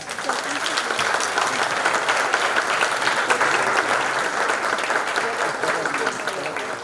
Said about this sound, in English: So if we could give them additional rounds of applause.